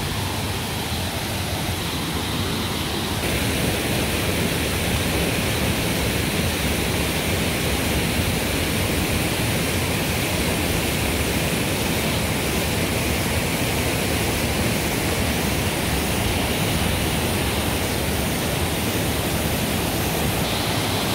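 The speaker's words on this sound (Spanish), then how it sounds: "Cada vez se escucha más fuerte el sonido del agua." Rushing river water in a Dominican Republic forest, a dense, steady roar that grows slightly louder after a few seconds and stays constant and close throughout, with no voices.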